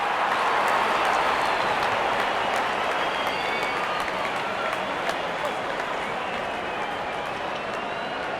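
A packed cricket crowd applauding a boundary in South Africa vs New Zealand, a dense, sustained wash of clapping and cheering at steady loudness across the whole stretch.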